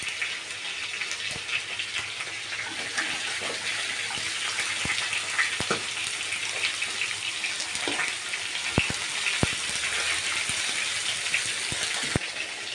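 Onion frying in mustard oil with cumin in a pan: a steady, fairly quiet sizzle and crackle running the whole time, with scattered sharp pops and spits, no talking.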